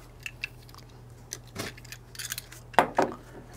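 Box cutter slicing into the top and sides of a large cardboard shipping box holding a fabric printer, a few sharp close scrapes and tearing strokes with short pauses between.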